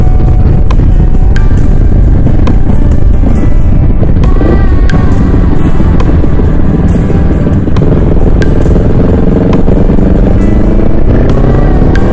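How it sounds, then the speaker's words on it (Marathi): A Royal Enfield Meteor 650 cruiser motorcycle with dual exhaust rumbles loudly and steadily up close, with heavy wind noise blasting the microphone throughout. "Meteor 650 आहे मला वाटतं ही. हो हो ड्युअल सायलेन्सर आहे."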